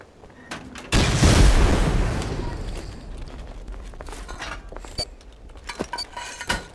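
A sudden loud blast-like gunshot in the video game Rust during a raid, followed by a decaying rumble, then scattered quieter clicks and shots in the distance.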